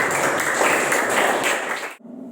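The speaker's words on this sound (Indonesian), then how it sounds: "Ya, kasih tepuk tangan dulu untuk kita semua." A junior high class breaks into dense applause, a loud wash of many hands clapping for about two seconds before stopping abruptly into room quiet.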